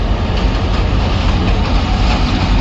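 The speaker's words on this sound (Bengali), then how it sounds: "বড় একটা ট্রেন গেল" A large train passes close by, giving a steady, loud, dense rumble and rattle of rail cars that runs without a break for the whole stretch.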